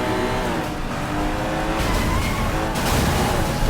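Car engine in the video game Sleeping Dogs, revving loudly and steadily throughout with shifting pitch and bursts of tire squeal and skidding toward the end.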